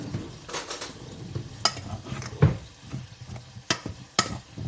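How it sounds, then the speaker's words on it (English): Potato wedges being tossed in olive oil for the air fryer: a series of soft, wet clattering and rustling bursts at irregular intervals, close and moderately loud, with no talking. "So there's the olive oil and we'll give them a toss around"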